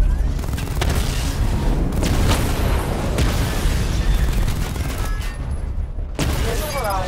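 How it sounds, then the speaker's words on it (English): A missile barrage and weapon fire in the Batman: Arkham Knight video game make a dense, loud run of booms and explosive blasts that pound continuously with barely a break. "Destroy targets to charge up weapon energy and activate missile barrage."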